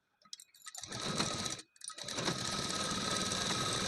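An electric sewing machine stitches a half-inch seam on a plain crush-strip blouse, starting with a few stuttering stitches, then running in a steady, close rapid whir after a brief pause.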